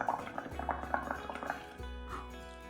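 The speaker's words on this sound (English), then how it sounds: "So much fun, blowing lots of bubbles." Bubbles blown through a straw into a liquid as a children's activity: a steady, close bubbling and gurgling that runs throughout, with soft irregular pops and drips.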